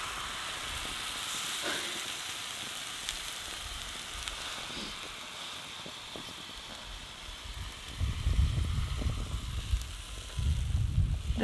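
A pancake fries on a rocket stove, giving a soft, steady sizzle and hiss that stays close and fairly quiet, with a heavier low crackling surge toward the end.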